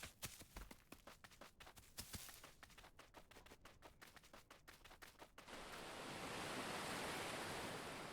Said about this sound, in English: Just ocean ambience.